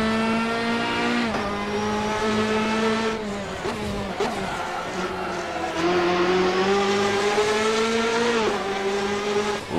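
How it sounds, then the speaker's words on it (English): Race car engine heard from outside on the Nordschleife in Assetto Corsa, a steady high droning note with pitch dips and climbs through gear changes and corners, echoing off trackside walls, loud and close with no voices. "You can hear those bouncing off the walls here at Nordschleife."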